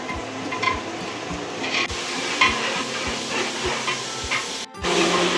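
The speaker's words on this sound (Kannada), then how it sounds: "ಈ ಥರ ಬ್ರೌನ್ ಕಲರ್ ಬರೋ ತನಕ ಇವರು ಚೆನ್ನಾಗಿ ಫ್ರೈ ಮಾಡ್ಕೋಬೇಕು" Onions for Ambur dum biryani fry until brown in a biryani shop near Kengeri railway station, a continuous close sizzle over a regular rhythm of soft thumps, with a brief gap near the end.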